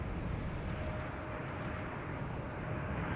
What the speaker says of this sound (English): Hope you were just in time to see the A380 land, which is still taxiing back there in the distance.